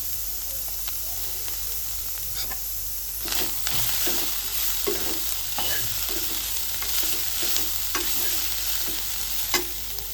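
Onion and coriander roast and sizzle steadily in a pan for a ground masala, with intermittent scraping and stirring clicks over a constant hiss.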